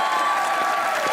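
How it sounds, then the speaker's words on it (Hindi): Studio audience applause at a Pakistani talk show taping, a dense, steady wash of clapping filling the short moment at close range with no voices over it. "तालियां"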